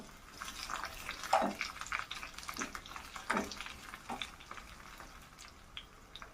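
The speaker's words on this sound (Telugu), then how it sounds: "ఫ్రెండ్స్, వెల్లుల్లిపాయలు వేగుతున్నాయి కదండి." Crushed garlic fries in a pan of hot oil as a tempering for dal. A steady crackling sizzle runs throughout, with irregular pops and spits and no talking.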